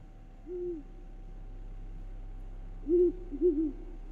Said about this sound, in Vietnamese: đâu đó văng vẳng bầy cú kêu rồi phành phạch vỗ cánh mà bay đi